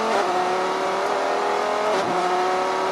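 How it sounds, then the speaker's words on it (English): A number 91 SRT Viper GT Le Mans race car at the 2014 Rolex 24 at Daytona, its engine droning loud and steady with a sustained high-revving tone and a brief pitch dip near the end, no talk. "we'll be looking for Jonathan Bomarito in the number 91 SRT Viper."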